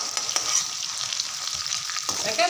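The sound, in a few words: frying broiler chicken with pumpkin in oil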